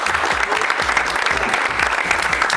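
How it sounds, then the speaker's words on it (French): Loud, dense applause from the audience at a press conference for the Hammamet half marathon, continuous clapping that fills the whole stretch without anyone speaking over it. "Je vous demande d'applaudir très très fort mon ami Philippe Raymond"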